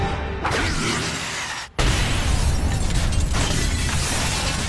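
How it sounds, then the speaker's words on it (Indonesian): An explosive blast with shattering glass from a punch in a Baki Hanma anime karate-dojo fight: a loud broadband crash, a split-second dropout, then a sustained dense roaring rumble of debris. "Pukulannya itu mengeluarkan efek ledakan yang sangat dahsyat hingga memecahkan kaca"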